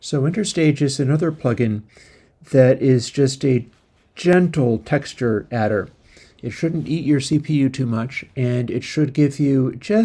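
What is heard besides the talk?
No distinct noise like a dog, phone or traffic.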